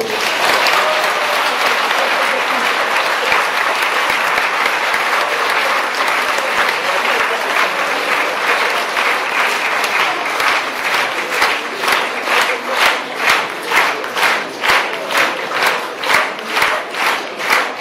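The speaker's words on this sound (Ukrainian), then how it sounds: "пощадіть свої долоні, тому що ви зараз вибухнете ще більшими оплесками" An audience at a writer's 60th jubilee celebration applauds loudly; the dense clapping gradually settles into synchronized rhythmic clapping in unison toward the end, with faint shouts in the crowd.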